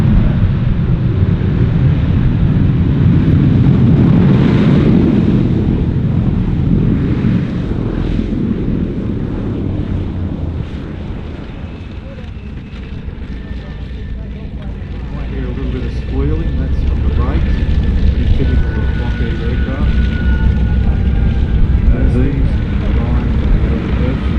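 A Lockheed Super Constellation lands at an airshow and uses aerodynamic braking, its piston-engine propeller roar loud and rumbling, fading slightly mid-way and rising again, with wind buffeting the microphone and people talking in the crowd.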